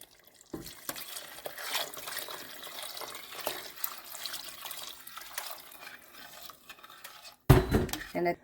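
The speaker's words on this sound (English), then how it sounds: "And now we're going to add a liter of water" A liter of water poured into a pot of chicken shorba, a close sloshing trickle among clinks of pots and utensils, ending in a louder splash, with some faint background voice.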